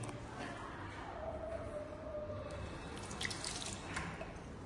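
Water running from a tap in a public toilet in a mountain forest park, a steady wash of flow with soft drips, continuous and fairly faint throughout with no speech.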